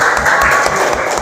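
A classroom claps for a group that has just finished presenting, a loud, dense burst of hand claps that stays even and close for its short span.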